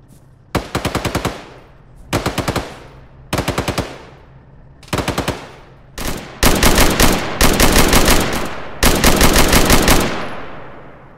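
Machine gun fire in the video game Arma 3: loud, close bursts of rapid automatic shots, four short volleys followed by longer sustained bursts, with no talk over them.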